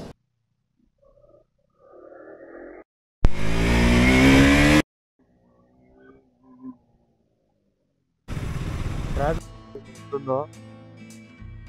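Motorcycle engine riding through traffic on a South India road trip around Kodaikanal, heard in two loud, close bursts of revving and rising engine pitch separated by quieter gaps, with a person talking.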